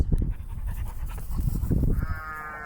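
Sheep and a ram on a remote off-grid island farm, heard close with shuffling and breathy panting noises, ending in a drawn-out bleat.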